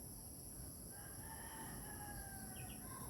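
A rooster crows faintly in the distance amid a quiet rural soundscape with steady insect hum, a single drawn-out call rising over the background.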